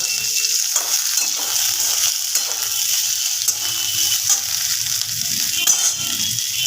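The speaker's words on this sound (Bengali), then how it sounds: "আলুগুলো একটু নাড়াচাড়া করবো আলুগুলো কিন্তু আমার ভাজা হয়ে গেছে" Steady sizzling of potatoes frying in a pan, with scraping and clinking as they are stirred; no voices.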